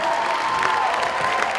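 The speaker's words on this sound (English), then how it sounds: "Let's have a big round of applause for this year's inductees" An audience at a high school athletic Hall of Fame ceremony applauds steadily throughout, a dense, close wash of clapping hands with no pauses.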